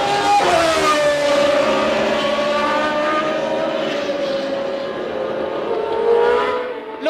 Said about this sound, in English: He's kept the car going. Look, he's motoring immediately.